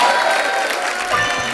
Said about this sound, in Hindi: मेरे लिए जोरदार तालियां